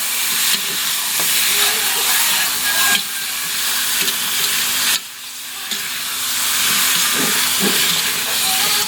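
Chicken pieces for adobo sizzle and fry steadily in a pan as they brown, a continuous close hiss with occasional stirring bumps and brief dips in intensity.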